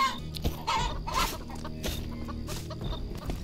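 A chicken clucks close by in a short, uneven run of calls over a busy, rustling background, with no one speaking.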